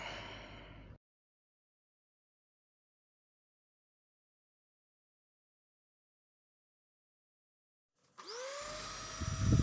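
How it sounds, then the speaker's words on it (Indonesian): Electric hand mixer beating steamed brownie batter, a steady motor whir that starts near the end after a long silence, loud and close with rising pitch as it spins up. "sekarang kita masuk ke proses pencampuran menggunakan mixer"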